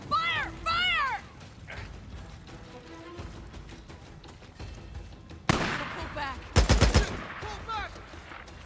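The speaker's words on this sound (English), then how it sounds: "Okay, so they have a machine gun." Machine gun fire in Days Gone, scattered rapid bursts of shots with one loud, dense volley near the end, mixed with shouted voices and other game noise.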